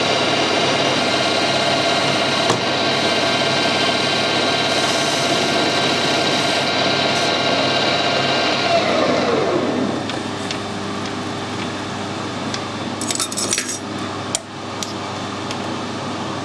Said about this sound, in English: it's nice you can take a fine cut with these carbide tools as well